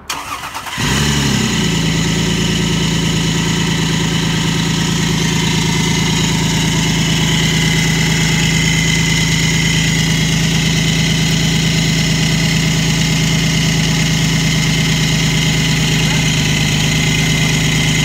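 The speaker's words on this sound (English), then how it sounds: "But this is the first fire up, and I'm just fingers crossed my car doesn't break." Toyota Supra engine, after a harmonic balancer failure, cranks and fires up for the first time, then settles into a steady, loud, continuous idle that holds close-up for the rest of the clip with no talk.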